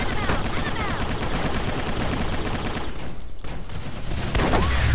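Rapid automatic gunfire in the shooter game Microvolts, dense continuous bursts filling the clip with a brief lull near the end, loud and close.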